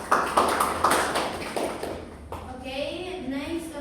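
A class group gives applause, a burst of claps in the first couple of seconds that fades, followed by a teacher speaking over the tail end.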